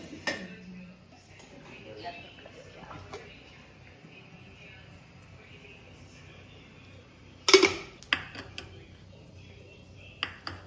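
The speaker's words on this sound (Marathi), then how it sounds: "आपण त्याला आता मॅशरने मॅश करू" A masher working pav bhaji vegetables in a metal pan, heard as scattered clanks and scrapes against the pan, with one sharp cluster of metallic knocks partway through over a quiet kitchen background.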